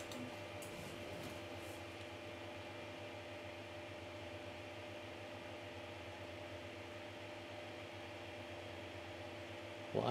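A 3D printer hums steadily as it begins printing and extrudes filament, with a constant motor and fan drone at low level.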